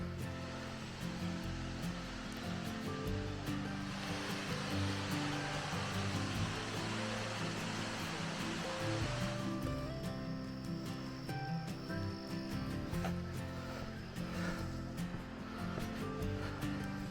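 Waterfall in a Hawaiian rainforest near Hilo on the Big Island, a constant broad rushing roar heard from a trail viewpoint, steady throughout, with insects chirping faintly in the background.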